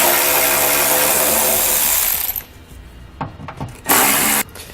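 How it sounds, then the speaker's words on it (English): A power tool with an 8mm socket removes bolts from the bottom bumper fascia of a 2015 BMW X5, whirring loudly and steadily for about two seconds, then followed by a few short, softer bursts and clunks. "we'll grab our 8mm socket and pull those 4 bolts out"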